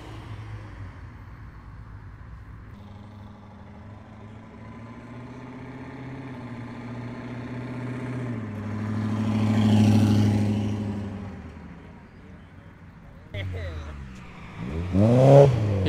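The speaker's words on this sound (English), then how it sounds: "S2K cruising on out." A Honda S2000 sports car pulls away at a cars-and-coffee meet, its engine note rising into a swelling pass that fades into the distance, with people talking around it.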